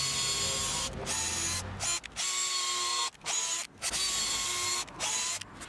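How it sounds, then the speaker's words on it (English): A power drill pre-drills holes in timber for a DIY double gate, whirring in repeated close, loud bursts separated by brief pauses, with no talking. "So I pre-drilled a couple of holes first."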